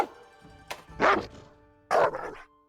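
Canine companion in Monster Hunter Rise giving two distinct, loud barks about a second apart, close and clean, with a softer yip before them.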